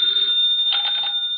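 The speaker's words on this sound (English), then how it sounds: "the ringing of that phone bell means mystery" A telephone bell rings in bright, repeated trills in an old NBC radio detective drama, loud and clear with no voices over it.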